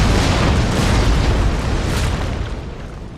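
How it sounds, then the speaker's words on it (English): Booming cannon shots and explosions from a Napoleonic battle in Napoleon: Total War, a dense, continuous rumbling roar that stays loud throughout and tapers slightly toward the end, with no clear voices. "All the cannonball shots and everything, it's brilliant."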